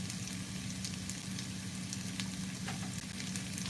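Garlic potatoes and white onion sizzle in a pan, giving a steady, even frying crackle with a low hum underneath. It runs throughout, moderately quiet, with no talking.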